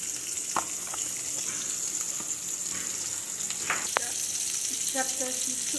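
Onion and garlic fry in hot oil with leafy greens, giving a steady, soft sizzle and crackle with a few clinks and stirring sounds near the pan. No one speaks.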